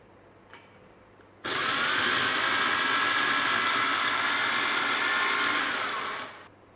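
A close electric grinder runs loud and steady for about five seconds, whirring roasted chilies, shallots and garlic into a fine paste, then winds down and stops.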